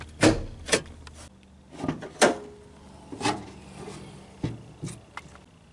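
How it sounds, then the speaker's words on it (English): Hood release and hood latch on a Ford Sport Trac popped open during a daytime running light install, a series of sharp mechanical clunks and clicks spaced a second or so apart, close by with quiet between. "we're going to go pop the hood"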